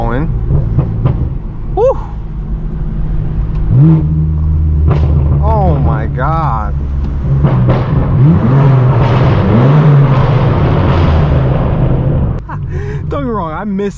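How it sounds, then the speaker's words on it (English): Straight-piped BMW M4 F82 exhaust, loud and close, with engine revs and sharp pops and bangs scattered across the run while a person exclaims over the noise. "Let's get some pops and bangs going."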